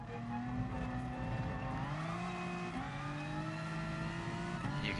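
A Ferrari 458 Italia Group 4 race car in Gran Turismo Sport, its engine droning at high revs with rising and shifting pitch, steady and fairly faint under a constant racing backdrop.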